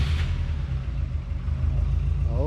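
Subaru Impreza WRX STI engine idling with a deep, steady low rumble, close and continuous, a brief rev rising at the end.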